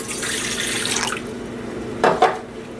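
Water splashes into a cup in a kitchen for homemade paleo marshmallows, a steady close pour that tapers off, followed by two quick clinks or drips.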